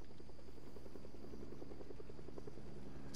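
Helicopter in the Fortnite video game, a faint continuous rotor chop with rapid rhythmic thumping over a steady background hum.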